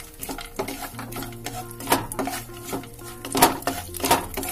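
Almonds being dry-roasted in a pan for til gur ladoo, with a spoon repeatedly scraping and clinking against the metal in irregular bursts, moderately close and without speech.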